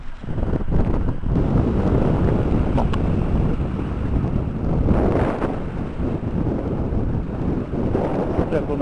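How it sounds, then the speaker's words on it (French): Waves of the North Sea wash steadily beneath strong gusts of wind buffeting the microphone, making a constant roaring rush broken by a few louder surges. "On entend bien le bruit des vagues, petite vague, vaguelette."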